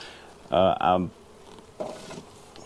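Swarm of wild bees settled in a hive box, buzzing steadily at close range in two short loud surges, then a fainter hum with soft handling noise.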